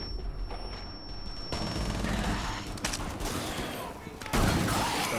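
Rainbow Six Siege gunfire, Outbreak mode: dense bursts of shots and booms packed together, loud and continuous, with a sharper surge near the end, while voices talk underneath.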